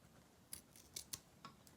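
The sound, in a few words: scissors snipping silk ribbon at downward angle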